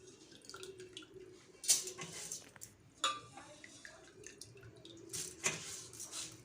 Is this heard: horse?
no